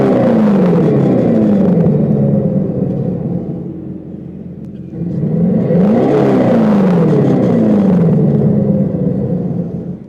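Simulated exhaust note from a Dodge Banshee electric muscle car, a loud, close, throaty drone that sweeps in pitch as it revs, dips briefly midway, then rises again in a second rev.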